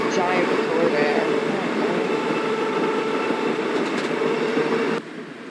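Inside the passenger compartment of a Class 319 train in Train Simulator, a steady rolling rumble and hum of the moving carriage carries on evenly, then drops away sharply near the end.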